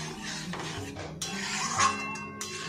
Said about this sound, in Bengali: এবার সাবুটা দিয়ে দিলাম